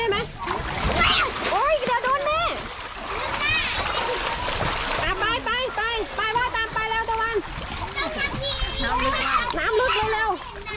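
Children splashing and swimming in deep water, continuous loud splashes close by, with kids chattering, shouting and squealing throughout.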